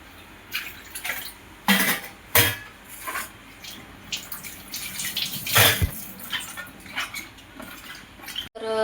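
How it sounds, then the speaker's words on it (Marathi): Bitter gourds are washed by hand in water, with close, irregular splashes, sloshes and drips, plus a few sharper knocks, over about nine seconds with no talking. "आता इथे मी छान असे कारले धुवून घेणार।"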